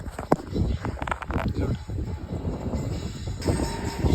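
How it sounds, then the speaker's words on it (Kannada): A train runs past a farm field, a broad rumbling roar of wagons that stays loud and steady throughout, with sharper clanks near the start. "ಇಲ್ಲಿ ಎದುರು ಟ್ರೈನ್ ಹೊಂಟಿದೆ, ಈಗ ನೀವು ತೋರಿಸ್ತದ್ರಿ ಹೊಂಟದ ನೋಡ್ರಿ"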